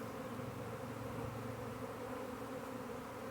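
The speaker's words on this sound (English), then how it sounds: "That's a pretty good sized swarm there, a lot of bees." A large honey bee swarm drones in a continuous, even buzz of many bees at once, close by and steady, with no talk.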